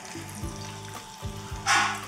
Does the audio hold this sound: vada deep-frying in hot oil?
yes